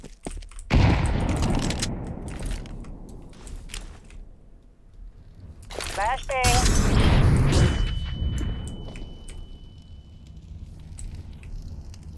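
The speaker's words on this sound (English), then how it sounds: "Grenade out." Grenade exploding in Counter-Strike 2 gameplay, a heavy booming blast followed by a second loud burst with debris and a lingering rumble, among gunfire, with brief talk from players.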